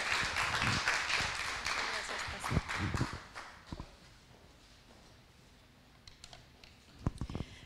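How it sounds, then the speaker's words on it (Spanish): A church congregation claps for a woman stepping up to the pulpit, a burst of scattered applause that fades after a few seconds into quiet, followed by a few isolated sharp claps or knocks. "Un fuerte aplauso para ella."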